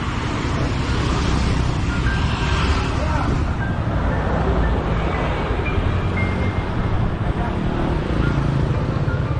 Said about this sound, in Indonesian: Macet nih lalu lintasnya.